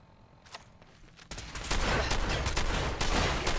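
Shotgun blasts in Fallout 4 fired at an armored Institute enemy, a quiet lead-in giving way to loud, dense repeated gunfire that keeps on steadily with no voices.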